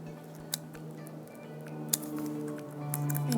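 A blade snips and cuts through stencil board, with a few sharp, brief clicks spaced apart over a steady low hum, close and fairly quiet, with no talk.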